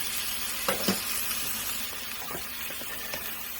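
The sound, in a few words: organic chicken cooking in a pan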